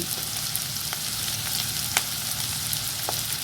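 Fish roe and fish fry in hot oil with a dense, steady close-up sizzle, broken by a few faint clicks and scrapes from stirring.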